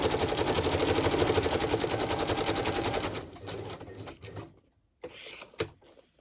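A sewing machine stitches through a shabby journal page, running in a fast, even mechanical rattle for about three seconds, then slowing into a few short, softer bursts separated by gaps.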